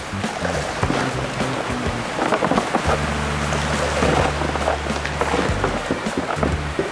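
Farmed flatfish thrashing at the surface of a fish-farm tank during feeding, a busy run of irregular splashes and slaps over a droning machine hum, fairly close and continuous.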